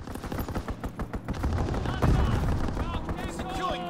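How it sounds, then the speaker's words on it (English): Rapid machine-gun bursts and heavy gunfire from a strafing run in Call of Duty WW2, a steady rattle of shots that swells louder midway with booming impacts, with game voices mixed in. "Strafing run inbound."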